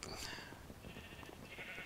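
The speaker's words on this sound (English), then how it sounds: "now you can hear the sheep because the sound thing's gone" Sheep bleating in the game Minecraft, a modded version 1.7.10 world, sounding as a few short bleats in the upper range over a busy game background with some low rumble.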